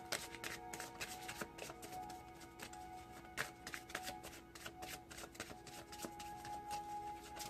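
Tarot cards being shuffled continuously, a dense run of quick riffling slaps close to the mic with a steady faint hum underneath.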